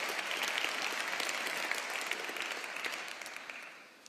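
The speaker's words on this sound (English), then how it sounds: "So please, a round of applause in advance for everyone." Broad applause from a conference crowd at a large gathering, full and steady at first, then gradually thinning and fading toward the end.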